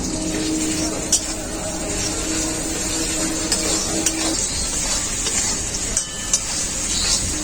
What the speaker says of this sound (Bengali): আদা রসুনটা খুব ভালো করে কষিয়ে নিয়েছি